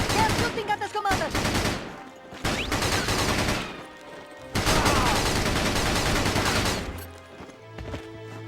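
Battalion Wars gunfire in a battlefield skirmish, loud continuous automatic bursts in several long stretches with brief pauses between them.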